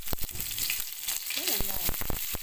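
Bay leaf, cinnamon, cloves, cardamom and curry leaves frying in hot oil for pepper chicken give a continuous close sizzle with bright crackles and a few sharp spatters throughout.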